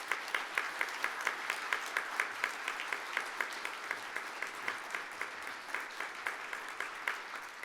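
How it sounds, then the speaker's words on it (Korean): An audience applauding at an award ceremony, steady rhythmic clapping that holds an even beat for the whole stretch, heard from a distance and fairly faint, without talk. "시상이 늦어진 만큼 더욱더 뜨거운 박수 부탁드리겠습니다."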